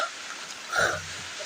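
A steady hiss of rain falls throughout, soft and even, with a brief louder rustle or knock partway through.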